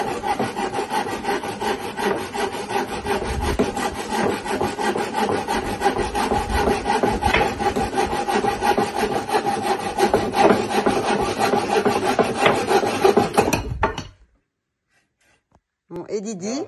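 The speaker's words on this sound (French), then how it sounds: "Voilà le poste de travail à la découpe. Ça va scier." A hand saw cuts wood at a renovation cutting station. Rapid rasping strokes carry on loud and close for about fourteen seconds, then the sound breaks off into silence before a brief return.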